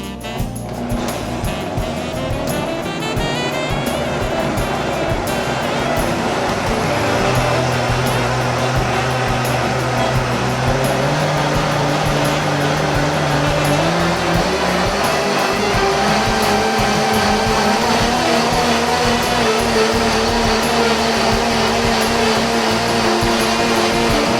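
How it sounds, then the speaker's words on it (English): Vitamix blender running a crab bisque mixture, a loud steady motor whir that starts at once and holds for the whole stretch, its pitch shifting slightly as the contents blend smooth. "we've got the bisque mixture in the Vitamix, and I'm going to go ahead and start it"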